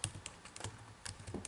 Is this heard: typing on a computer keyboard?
yes